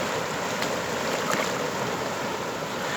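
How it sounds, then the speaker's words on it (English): Powerful rush of the River Erne pouring into the sea at The Abbey, Ballyshannon, County Donegal, Ireland: a steady, dense roar of moving water with some wind, continuous and close throughout. "That is the power of the River Erne flowing into the sea."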